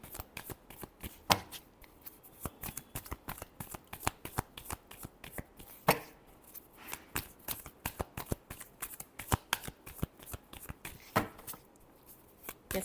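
A deck of tarot cards is shuffled again and again, giving a long run of crisp, close riffling clicks and flutters in quick uneven bursts with short pauses between them.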